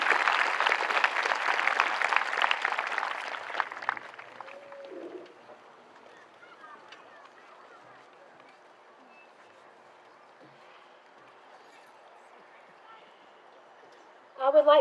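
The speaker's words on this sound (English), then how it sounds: "Please give a round of applause for all of these who have come out to share this night with you." Audience applause fills a high school graduation ceremony, a dense burst of clapping for about four seconds that fades into quiet room murmur, with brief voices near the end.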